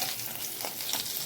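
Katla fish frying in a pan with onion, ginger and garlic paste, a steady close sizzle with soft stirring scrapes, no voices.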